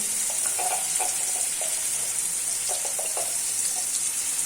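Onions fry in a pan with a steady high sizzle, punctuated by a few soft clinks and scrapes; no one talks.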